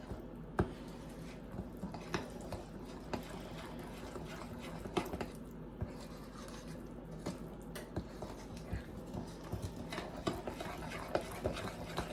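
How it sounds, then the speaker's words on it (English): Batter being mixed in a bowl, soft wet squishing and quiet scraping strokes repeating in an irregular rhythm, faint and close, without talking. "just mix it together until it's combined"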